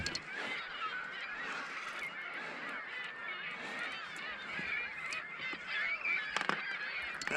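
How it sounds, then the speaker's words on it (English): A flock of Canada geese honks continuously near a bird island on the water, many overlapping nasal calls forming a steady, moderately distant chorus. "We got seagulls, we got terns, we got Canada geese."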